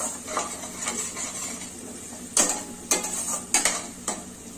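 Garlic and fenugreek leaves fry in oil in a pan with a soft, steady sizzle, while a utensil scrapes and stirs in several distinct clattering strokes near the end.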